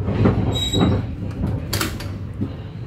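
The KA Menoreh train rolls into Pemalang station, a close heavy rumble with thumps, a thin wheel squeal and a short burst of hissing air.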